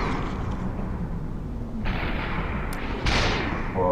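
Gunfire in the VR shooter Superhot on Oculus Quest, played in a continuous dense rumble with two sharper reports near the end and no voices.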